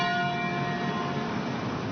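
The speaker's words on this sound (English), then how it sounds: "The sound of church bells ringing echoed from Peachtree Street, down Edgewood, and finally to here on Auburn Avenue." Church bells ringing along an Atlanta street, a layered sustained peal of overlapping tones that stays loud and continuous throughout.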